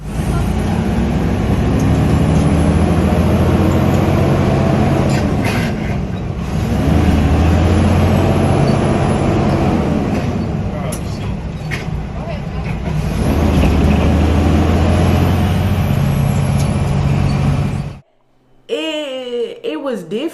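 Interior of a manual-shift truck on a driving lesson, a loud low engine rumble that rises and falls through gear changes, then cuts off near the end before a brief squeal.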